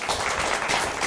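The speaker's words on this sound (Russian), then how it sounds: "Это достойный аплодисмент." An audience at a lecture applauds, a dense, even wash of clapping throughout the short moment, with a faint voice underneath.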